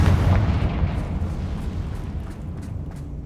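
Confringo spell blast in the video game Hogwarts Legacy, a loud explosion opening with a heavy boom and rumbling away into a fading roar.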